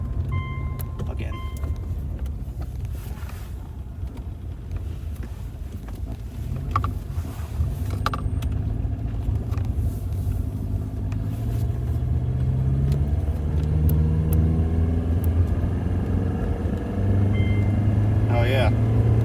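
A car rolling along a road in a steady drive, with continuous low engine and road rumble, some wind buffeting, and occasional faint clicks throughout.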